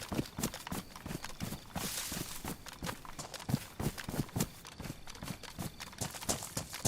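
Rhythmic footsteps in the survival game DayZ crunch steadily across ground, moderately loud and continuous with no voices over them.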